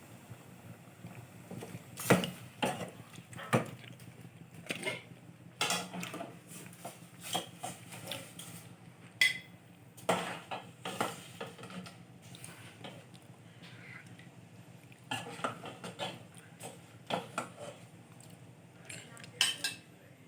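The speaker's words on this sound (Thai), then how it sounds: "ตอนนี้เราก็จะ ตักใส่จานไว้ก่อนนะครับ" Cooked prawns being scooped from a pan onto a plate for a Thai shrimp larb, with irregular clinks and scrapes of utensil on cookware, fairly close and moderately loud, no talking.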